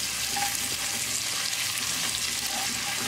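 Ginger, garlic and green chili fry over medium heat in a pan for chana dal, a dense, steady close-up sizzle lasting a few seconds with no talking.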